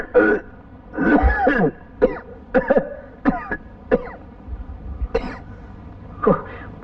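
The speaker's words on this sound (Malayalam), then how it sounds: "നിന്റെ ചുമയൊന്ന് നിർത്ത്" Repeated harsh coughs and throat clearing come in irregular bursts, close and fairly loud, with brief pauses between them.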